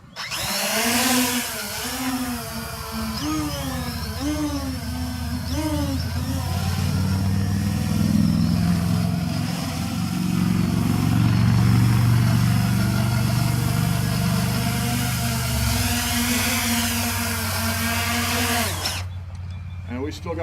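An XK X350 quadcopter drone lifts off and sets down on a landing pad outdoors in wind, its motors a steady buzzing whine that swells and wavers in pitch for about twenty seconds before cutting off.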